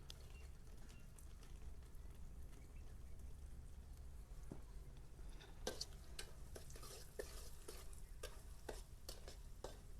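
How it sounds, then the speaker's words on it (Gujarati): Chopped cashews and almonds roast in ghee for semolina sheera, a soft continuous sizzle with scattered sharp stirring clicks growing more frequent, faint and without talk. "આ રીતે ઘીમાં કાજુ બદામ હારો શેકાઈ જાય"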